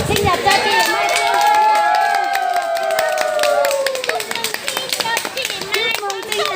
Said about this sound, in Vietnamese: cùng vỗ những vỗ tay thật là mạnh để chúc mừng sinh nhật cho chị Mai Phương